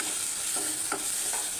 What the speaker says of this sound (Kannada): ಮಸಾಲೆ ಚೆನ್ನಾಗಿ ಮಿಕ್ಸ್ ಮಾಡ್ಕೊಳ್ಳಿ.